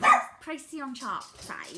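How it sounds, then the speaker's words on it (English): A dog barks in the background while someone talks over it, the yaps short and sharp at the start and mostly masked by her speech. "Apologies for the dog again."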